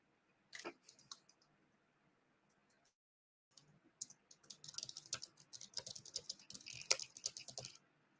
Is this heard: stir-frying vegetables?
no